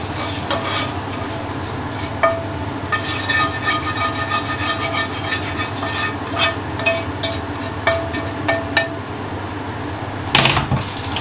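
A metal utensil scrapes burnt food off a hot pan in repeated short strokes, with sizzling underneath and a louder clatter near the end.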